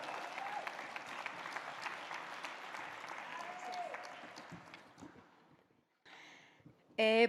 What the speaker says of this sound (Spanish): pido que recibamos con un muy fuerte aplauso